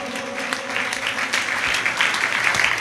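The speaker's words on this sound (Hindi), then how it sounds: "एक बार जोरदार तालियां उनके इस भावों के लिए" Audience applause at a Jain felicitation ceremony during a religious camp, loud and continuous clapping from a large gathering with a faint tonal hum beneath it.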